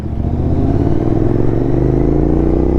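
Loud, steady motorcycle engine with an aftermarket exhaust, from a group ride from Bangalore to Kolar with a GT650 and a Street Triple. A continuous deep drone holds throughout, close and uninterrupted, with a slight rise in pitch.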